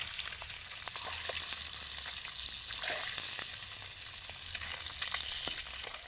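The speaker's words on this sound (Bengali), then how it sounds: "একটু আমি ভালো করে ভেজে নেব" Eggs fry in a pan for Afghani egg curry, giving a steady, close hiss of sizzling oil with small crackles and pops, no voices over it.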